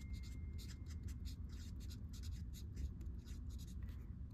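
A pen or pencil writes a label on paper with rapid scratchy strokes, a steady stream of close, crisp scribbling with no voices.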